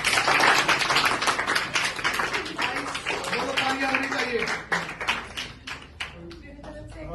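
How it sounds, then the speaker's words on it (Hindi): Audience clapping at a Hindi talk, a dense burst of many hands that starts loud and fades toward the end, with a voice speaking through it. "ताली मारो भाई"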